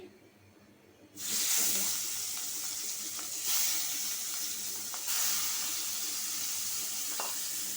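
Shrimp for a bhuna fry in a hot wok, starting abruptly after a quiet second and continuing as a loud, steady, close sizzle with occasional surges.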